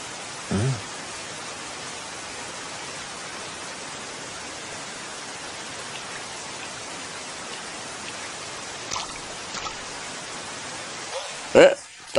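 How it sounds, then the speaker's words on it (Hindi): Steady rain falls in an anime movie scene, a constant even hiss of drops on surfaces filling the whole stretch, with a couple of brief knocks near the start and end. "बारिश हो रही है।"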